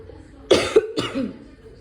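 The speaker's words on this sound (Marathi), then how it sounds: "खोकला येतोय त्यामुळे" A person with a cough coughs twice in quick succession, close and fairly loud, followed by a short throaty sound, no words spoken.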